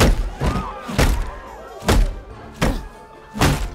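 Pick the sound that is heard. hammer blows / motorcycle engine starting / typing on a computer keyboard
hammer blows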